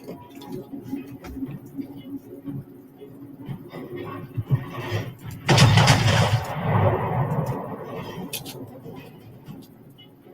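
Naval artillery in a video game sea battle, with a loud booming blast midway that rumbles and decays over a few seconds, surrounded by smaller clicks and a voice speaking under the action.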